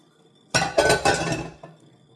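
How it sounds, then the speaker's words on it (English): Flour being sifted for a Peruvian orange cake, heard as a close, brief run of metallic rattling and tapping bursts from the sifter lasting about a second, with a faint final tap and no talking. "Sift this flour here."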